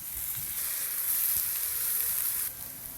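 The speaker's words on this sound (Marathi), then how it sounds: "आपण आता भिजवलेली डाळ घालूया." Soaked moong dal hits sautéed onions in a hot pan, producing a loud, steady sizzle and hiss with faint stirring, dropping a little in level near the end.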